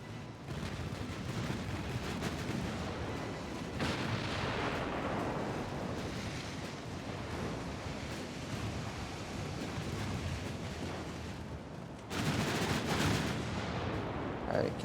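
Naval ship guns firing during a battle in Ultimate Admiral: Dreadnoughts, heard as a continuous roar of booming gunfire and rumbling blasts with a louder burst near the end, under faint talk.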